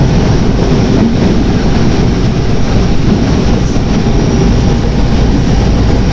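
A passenger express train crosses a diamond crossing near Rohri yard with a loud, unbroken rumble and rattle that stays heavy and constant the whole time.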